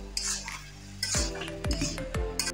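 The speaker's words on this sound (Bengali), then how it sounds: "মটর আলু মশলার সাথে মিশিয়ে নিব।" Boiled peas and potato pieces being stirred into spices in a pan, with repeated close metallic scrapes and clinks of a spoon against the pan over a steady low background hum.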